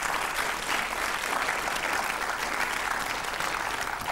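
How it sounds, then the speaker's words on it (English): A TV game show studio audience on Countdown breaks into a round of applause, a continuous even wash of clapping at moderate level with no talk over it. "I feel another round of applause coming in."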